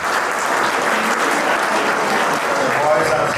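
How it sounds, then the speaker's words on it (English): Schoolboys at St Joseph's College in Nainital clap together as an audience, a thick, continuous wash of applause that stays even and loud throughout. "I think they deserve a clap."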